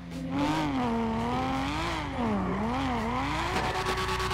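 A powerful car engine in the GTA 5 video game revs loudly and continuously, its pitch climbing and dipping in repeated surges, with no talking over it.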